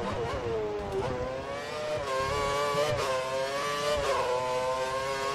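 Williams and Red Bull Formula 1 cars racing in a video game, with engines whining continuously at high pitch as they rise and fall through gear changes, two cars close together.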